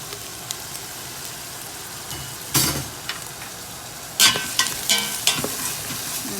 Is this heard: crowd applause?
no